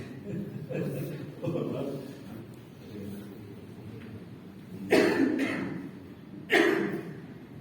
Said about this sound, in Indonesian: Gara-gara itu pula mungkin saya kena batuk, jadi kalau dingin alergi